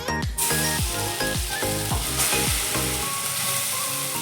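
Grated carrot frying in ghee for halwa, a loud close sizzle with a rapid run of stirring scrapes and knocks in quick succession that fade out toward the end.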